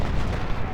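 Dense, rumbling artillery fire in a Civil War strategy game, Ultimate General: Civil War, with loud booms blending into a continuous roar.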